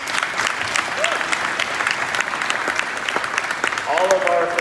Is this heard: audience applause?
yes